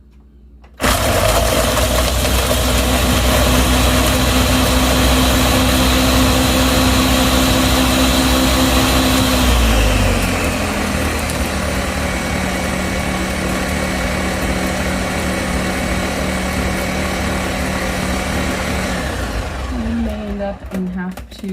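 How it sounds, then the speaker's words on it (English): Loud blender whirring through tallow ice cream with cinnamon, a steady motor roar that drops in pitch about halfway as the mixture thickens, running continuously for around twenty seconds before winding down. "blend it right up"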